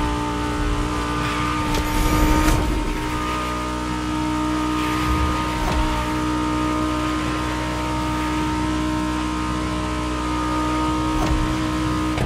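Two Lamborghini hypercars, an Egoista and a Terzo Millennio, race in The Crew Motorfest, their engines droning steadily and loudly with brief revving surges and whooshes through the run.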